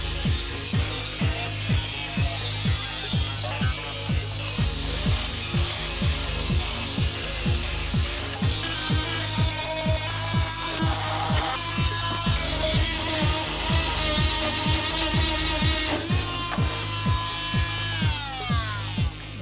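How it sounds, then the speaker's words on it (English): A tool cuts through the body panel of a Porsche 996 during a GT3 RS conversion, giving a loud, continuous, rhythmic rasping and grinding that runs unbroken throughout, close up with no talk. "I think I'm now ready to start cutting this off."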